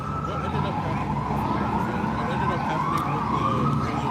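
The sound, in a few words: emergency vehicle siren passing on the street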